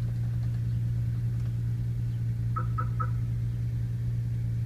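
A 2004 Nissan Maxima Nismo idles just after startup with a steady, low, even engine hum, following the fitting of a spacer kit; a few brief faint chirps sound partway through, with no talking.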